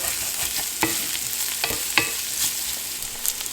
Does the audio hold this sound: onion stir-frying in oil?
yes